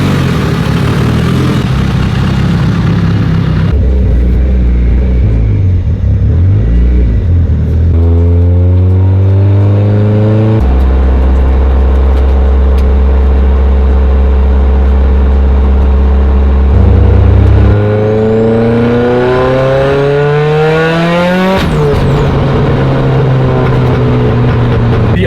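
A tuned Mitsubishi Evo 8 with an upgraded fuel system drives off on a cruise, its engine note rising through several accelerating gear pulls with shifts between them, loud and close throughout.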